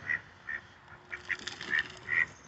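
A goose by a river gives a series of six short honks spaced roughly half a second apart, fairly close and clear over quiet background.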